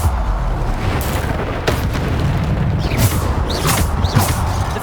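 A Bombarda spell in Hogwarts Legacy goes off as a deep booming explosion, with several sharp bursts and magical whooshes over a dense, rumbling battle din.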